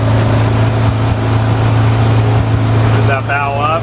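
A Sea Ray motorboat engine drones loud and steady under load as the boat speeds up on open water, with wind rushing past and a rising whine coming in near the end.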